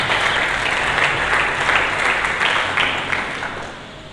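A church congregation claps together during a sermon, producing a dense, loud wash of applause that holds steady for a few seconds and then begins to fade, with no voices over it.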